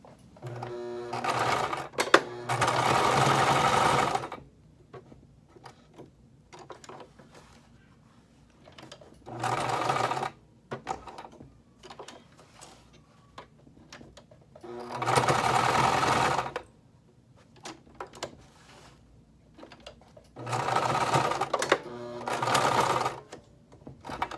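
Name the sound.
sewing machine sewing felt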